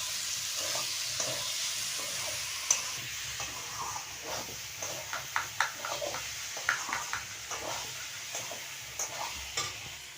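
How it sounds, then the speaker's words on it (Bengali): Mixed vegetables fry in a pan with ginger-cumin paste, a soft continuous sizzle joined by a string of sharp spatula scrapes and taps as the stirring picks up. "আদা জিরে বাটা দিয়ে আমি সবজিটা কষিয়ে নিলাম।"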